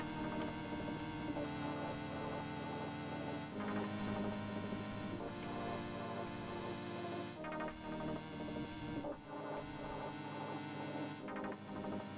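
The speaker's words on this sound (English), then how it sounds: "And then for the effects, I'll throw on that tremolo." A sustained synth tone in Logic Pro pulses with a steady wavering tremolo, moderately loud, changing chords every few seconds with no voices.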